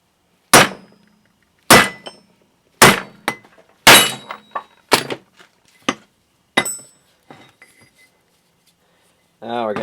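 A hammer strikes a punch to drive parts out of the rear wheel hub of a 1975 Suzuki GT750 motorcycle: several loud, close metallic clanks with ringing tails, then lighter taps fading out, and a brief voice at the end.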